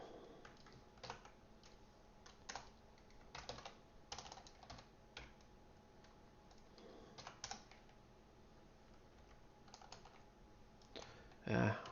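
Typing on a computer keyboard into a text field: quiet, steady clatter of keys in irregular bursts across the whole stretch, with a sharper louder click near the end.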